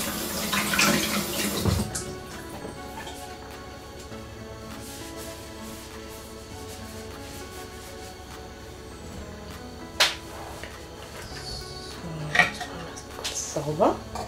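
A cucumber with a slightly textured skin is washed under running water in a kitchen sink, with steady splashing, a clatter of dishes near the start and a few sharp knocks later.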